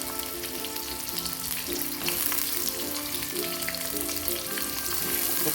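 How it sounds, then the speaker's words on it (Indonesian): Shallots and garlic frying in a pan for a tumis of oncom, kecombrang and pete, a steady, fairly loud sizzle with occasional stirring scrapes running throughout, no voices. "Masukin bawang merahnya ya. Bawang putihnya juga masuk ya."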